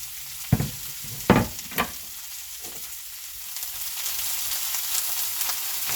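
Sausage with peppers and onions frying in a pan, a steady hiss of sizzling under a few close knocks and scrapes of stirring, with the sizzle growing a bit fuller toward the end.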